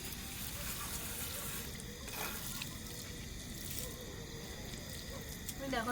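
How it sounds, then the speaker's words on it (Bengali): Kewra water and rose water being poured into a pot of chicken biryani, a soft, continuous trickling splash over steady background hiss, fairly faint and even throughout. "এই যেটা যাচ্ছে কেওড়া জল, গোলাপ জল"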